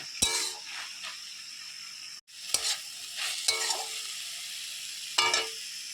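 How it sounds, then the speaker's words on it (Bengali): Pumpkin stalks and greens with salt and turmeric being stirred in a pan, a low sizzle punctuated by several sharp scraping and clinking strokes of the utensil against the pan, close and alone. "এটিকে ভালোভাবে নেড়ে মিশিয়ে নিচ্ছি"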